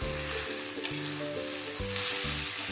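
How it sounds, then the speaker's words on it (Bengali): Fish kabab filling of boneless katla fish and grated potato fries steadily in a pan, a loud, continuous sizzle with occasional stirring and a low steady hum underneath. "দিয়ে সব একসাথে আমি এবার পুরটা ভালো করে কষে নেব।"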